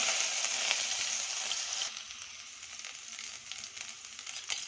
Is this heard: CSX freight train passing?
no